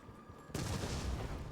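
A grenade blast in Resident Evil Village hits abruptly after a quiet moment, then a dense, loud roar of rumbling debris and crackle carries on to the end without dying down.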